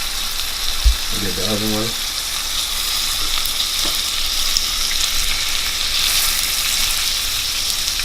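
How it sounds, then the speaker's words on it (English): A rack of lamb sears fat side down in hot oil in a pan, giving a steady close sizzle and frying hiss throughout, with a brief spoken remark and a light clatter near the start. "So you just want to sear that on both ends."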